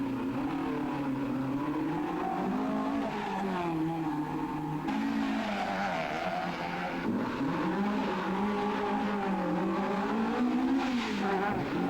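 Rally cars race along a stage of the 1985 West Cork Rally, including a Capri with failing oil pressure and a Hayes Caravan-sponsored Escort, engines revving and rising and falling in pitch with tyre squeal, continuous and fairly close.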